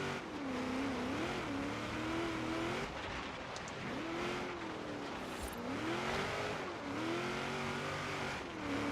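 A Ford De Luxe Coupe with a V8 engine in Forza Horizon 3 drones and revs steadily uphill, pitch rising and falling with throttle changes, a continuous close engine note with faint tire noise.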